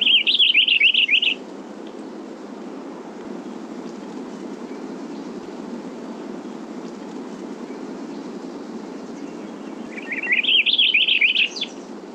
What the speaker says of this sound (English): And this is the purple finch.